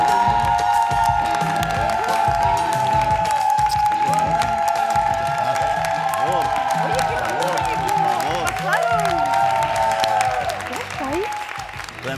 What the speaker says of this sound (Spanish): Tremendo aplauso.